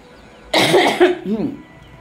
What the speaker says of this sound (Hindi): आज पेट खाली है तो खांसी आ रही है